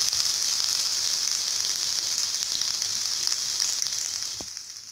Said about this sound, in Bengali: পেঁয়াজগুলো আমার ভাজা হয়ে গিয়েছে।